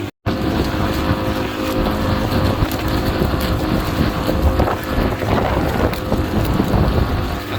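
Custom bangka outrigger boat motor cruising at low throttle along a shoreline, a steady loud engine drone mixed with heavy wind buffeting the microphone, continuous and close.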